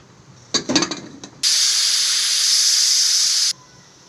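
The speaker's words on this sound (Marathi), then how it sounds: "आपण शिट्या काढून घेऊया." A pressure cooker full of spicy chicken curry lets out a loud, steady hiss of escaping steam for about two seconds, then stops abruptly. A few brief clattering knocks come just before it.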